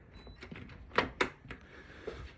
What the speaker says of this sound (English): let me lock this door.